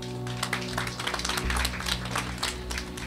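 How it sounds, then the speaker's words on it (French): Audience clapping for the teachers at a Senegalese high school ceremony in Fatick, a steady burst of many hands over a low hum, lasting the whole stretch. "je voudrais que vous leur applaudissiez"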